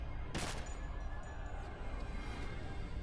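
Gunfire in the game Edge of Eternity, one sharp crack near the start followed by a quieter flurry of faint shots and battle clutter, all fairly distant and low in level.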